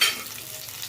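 Onions and green chillies fry and get stirred in a pan for a chicken dish, a steady close sizzle with a brief louder scrape at the start, no voices.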